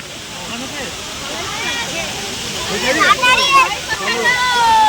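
A hill waterfall at Ayodhya Hills in Purulia gives a steady rushing roar beneath constant chatter from a school group of visitors, with the voices rising louder toward the end.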